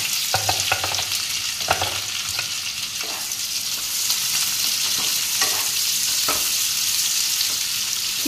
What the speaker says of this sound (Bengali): পেঁয়াজটা এইভাবে একটু লাল করে ভেজে নিতে হবে।